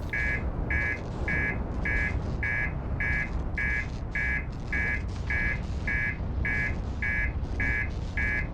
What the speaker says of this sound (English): I don't want to hear you beeping.